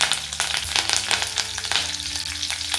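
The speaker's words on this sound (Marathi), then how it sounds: "जिरे आणि मोहरी आपलं हे तडतडायला लागले किंवा ते छान असं गरम झालेलं आहे" Cumin, mustard seeds and curry leaves crackle and sizzle in hot oil for a Marathi whole chickpea curry tempering, a steady close frying hiss with dense popping, heard alone.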